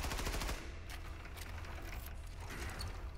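Rapid, rattling bursts of machine-gun fire in Wolfenstein II: The New Colossus, continuous and fairly close, with a dense repeating clatter throughout.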